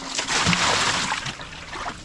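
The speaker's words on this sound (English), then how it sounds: "You're wondering what all that water sound is?" Water sloshing and splashing close by in a boat, a continuous wet churning that swells and settles over a couple of seconds.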